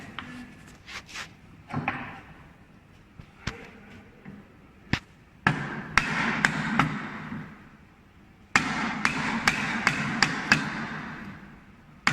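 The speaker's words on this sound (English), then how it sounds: "First we use the formal chisel, the chipping little by little." Hand chiseling of wood for a dovetail halving joint: a series of sharp, close taps and chips, some isolated and some in quick clusters, with soft scraping between the strikes.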